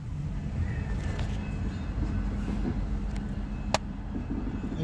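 BNSF yard locomotives 2739 and 3146 switching back into a rail yard, a continuous low diesel rumble and rolling rail noise at moderate distance, with a brief sharp clank near the end.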